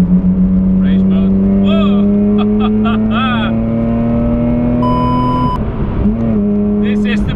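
A race car pulls hard in race mode with a Sprint Booster fitted on the Nürburgring, its engine note climbing in a long, steady rise that sags briefly near the end. Voices and an electronic tone sit over the engine.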